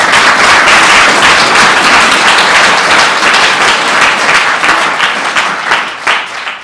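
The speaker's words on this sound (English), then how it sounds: "I figure there's always a round of applause somewhere out there" Loud, sustained audience applause at a talk on feminism, dense clapping throughout that thins slightly near the close.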